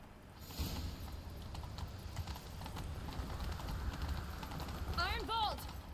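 Horse hooves clip-clopping at a gallop in The Witcher 3: Wild Hunt, a steady rapid patter under a dense bed of game ambience and background voices, with a brief whistling chirp near the end.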